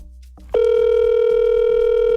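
After a faint click, a steady, loud telephone dial tone starts and holds unbroken to the end, close and alone.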